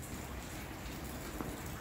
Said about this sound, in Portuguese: Tá chovendo muito desde ontem.